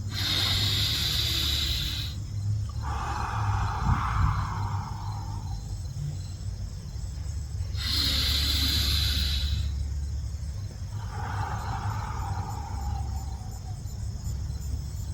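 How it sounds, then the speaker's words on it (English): Slow, deep breathing in a guided sleep-relaxation exercise: two long cycles of inhaling and exhaling, each a soft, airy rush close to the mic, over a steady low hum. "Inhale and exhale."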